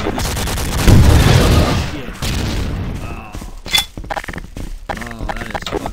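A grenade bursts in a loud, rumbling blast in the game Half-Life, then gives way to scattered clanks, debris and sharp combat noises that trail off in irregular bursts.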